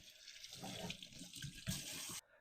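Canned black beans rinsed under a running kitchen tap, a steady close rush of water splashing into a sink and over the beans for about two seconds before stopping abruptly, with no talk.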